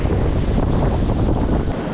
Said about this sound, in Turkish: Karadeniz'in dalgaları meşhurdur ya